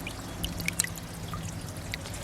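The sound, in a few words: washing water chestnut plant roots in water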